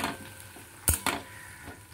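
Tomato is stirred into potato bharta in a pan, with a steady sizzle underneath and a few sharp clinks of a spoon against the pan, close by.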